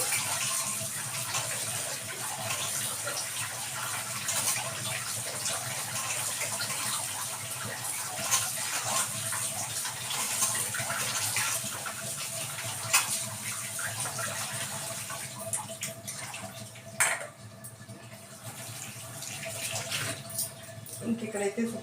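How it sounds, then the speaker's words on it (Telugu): Minced meat (keema) is rinsed under a running kitchen tap, a steady splashing gush of water that holds for a long stretch and thins toward the end, with a few small knocks and clatters. "పక్కన పెట్టేసుకుని చక్కగా కడిగేసుకోవాలి"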